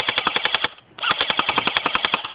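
An airsoft gun fires rapid automatic bursts, a sharp rhythmic rattle of shots with a brief pause before the stream of fire resumes, loud and close.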